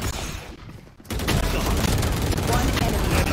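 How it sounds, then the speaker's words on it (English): Vandal rifle fire in the shooter game Valorant, a brief lull then a loud sustained barrage of overlapping shots filling most of the clip. "I see this Marla person just crab shooting the whole time."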